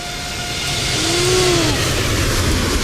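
An Air France airliner flies overhead near San Francisco, a broad steady engine roar that swells gently and holds, with a faint whining tone gliding through it.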